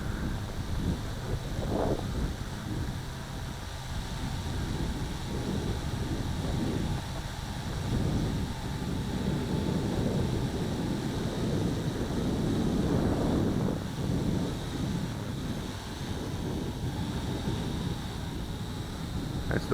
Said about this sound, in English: Just hovering in the wind, letting the breeze blow it